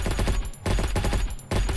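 Rapid bursts of automatic gunfire from a gun in a video game, fast repeated shots in three quick volleys separated by brief gaps, loud and close.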